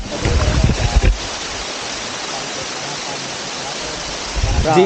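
Bukuan Falls waterfall in North Cotabato, heard as a steady, dense rushing roar of falling water, with brief voices near the start and end.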